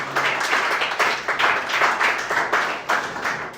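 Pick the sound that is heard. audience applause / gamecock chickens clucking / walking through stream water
audience applause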